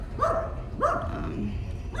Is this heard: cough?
no